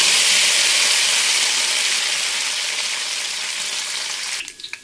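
Curry leaves fry in hot oil with a loud, steady sizzle and crackle that fades a little, then breaks into a few sharp pops near the end, with no voices.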